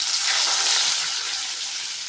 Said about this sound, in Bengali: কড়াতে তেল বসিয়ে দিয়েছিলাম, গরম হয়ে গেছে, এবার মাছগুলো একটা একটা করে ভেজে নেব।